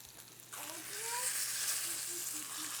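Meat sears in a heavy cast iron pan, its sizzle jumping up suddenly and then holding as a loud, steady hiss, with a voice talking briefly over it.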